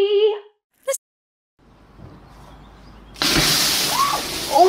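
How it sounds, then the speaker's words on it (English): Water splashes and sloshes in a sudden, steady rush after a few seconds of near silence, with short electronic tones and a voice heard earlier in a game scene. "What was that, water?"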